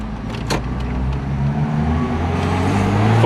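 Volvo 244 GL car engine spluttering while driving, an uneven low rumble with road noise that grows slightly louder toward the end, heard from inside the car without talk.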